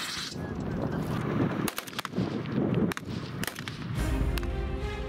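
Gunfire from a military live-fire exercise at the Aisha-Bibi range: several sharp, cracking shots at irregular intervals over a constant outdoor rumble, with a honking sound near the end.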